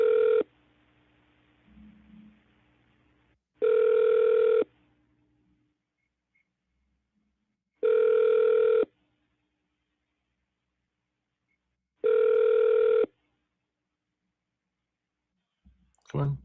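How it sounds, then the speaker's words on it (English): Ringback of a phone call to a U.S. senator's office: three steady, evenly spaced rings after a brief connecting hiss, each about a second long with silence between, clean and close. "Connecting you to the office of Senator John Kennedy. Dialing."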